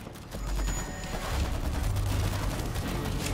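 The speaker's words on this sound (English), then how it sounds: "Auto turret running." An auto turret in World War Z fires a sustained, dense burst of rapid shots that runs the whole time at a steady, fairly close level, with no voices over it.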